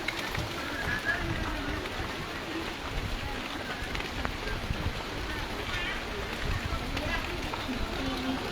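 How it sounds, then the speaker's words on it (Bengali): Heavy rain falls all around in a dense, constant hiss and patter, with a voice talking over the downpour throughout. "চারিদিকে প্রচণ্ড বৃষ্টি হচ্ছে"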